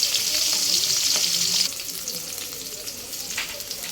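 Fish rubbed with turmeric, chili and salt frying in a pan, a bright, loud, hissing sizzle up close that drops abruptly to a quieter crackle partway through, with occasional stirring noises.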